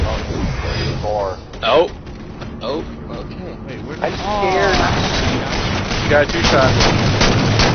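Gunfire in an online shooter game, scattered shots and bursts in the background while players talk excitedly over it throughout.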